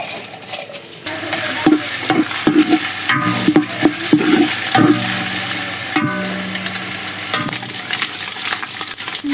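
Cinnamon sticks and cardamom pods sizzle loudly in hot oil in a pan, stirred with a steady spoon scrape and clicking spice pieces, continuous and close throughout.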